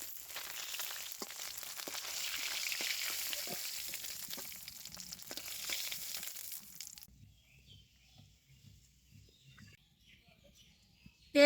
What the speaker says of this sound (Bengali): মাছ ভাজা হয়ে গেছে, এখনই উঠাইয়ে নেই